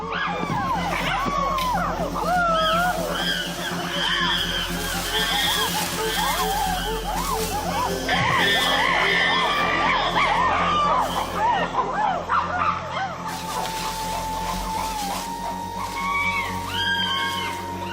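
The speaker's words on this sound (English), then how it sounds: "To intimidate their opponents, the aggressors scream and drum on buttress roots." Wild chimpanzees in a forest attack scream and hoot in loud, overlapping, rising calls that go on steadily, with a narrator's voice heard beneath them.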